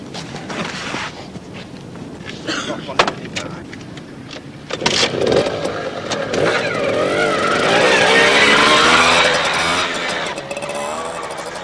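A trial motorcycle picks its way across a sideways slope on an off-road course, its engine puttering and blipping, then swelling into a steadier, louder drone up close, with no talk over it.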